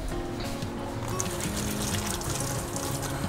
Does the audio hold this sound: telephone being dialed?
no